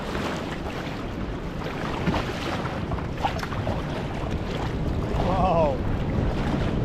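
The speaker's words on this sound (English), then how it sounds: "Huge wave coming, huge swell coming in now" Choppy sea swell and waves rolling in around a boat during bass lure fishing, a steady rough wash of water with wind buffeting the microphone throughout, and a brief voice near the end.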